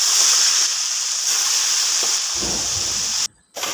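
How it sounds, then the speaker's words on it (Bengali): Fish frying in a home kitchen during a Jamai Sasthi family meal: a steady, fairly loud oil sizzle and hiss that holds for several seconds before cutting out near the end. "মাছ ভাজা হচ্ছে"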